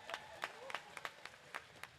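Sparse, faint applause from an audience as a Standardbred stallion leaves the show ring, a few distinct claps spaced out at an uneven rhythm.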